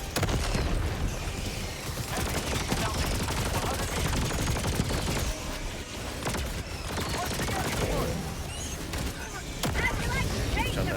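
Sustained rapid gunfire from a Gatling gun in the video game Helldivers 2, a dense continuous rattle mixed with explosions and battle noise, loud and steady throughout, with a voice talking over it.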